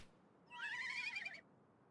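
A horse whinnies once in the video game Live A Live, a clear, wavering neigh of about one second that rises and then falls, standing alone over quiet background music.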